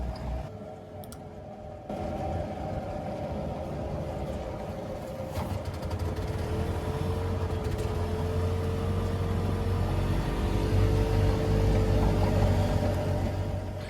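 A 1986 Columbia utility cart struggling up a hill, its engine droning steadily with a rising hum, growing slightly louder as it climbs, alone without talk.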